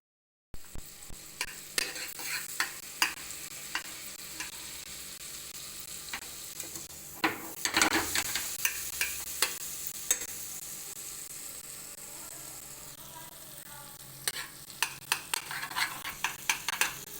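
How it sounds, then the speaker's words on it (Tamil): Ginger and garlic sizzle steadily in melted butter in a hot pan, with frequent clicks of a spoon stirring and scraping, a brief louder hiss swelling midway. "இஞ்சி பூண்டு போட்டு சமைக்கிறேன்"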